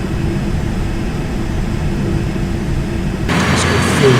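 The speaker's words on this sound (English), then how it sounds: "It's got 4 big engines," Four big engines of a heavy airliner in Flight Simulator X roar in a steady low rumble that holds throughout, with a brighter, louder wash of engine noise swelling in near the end.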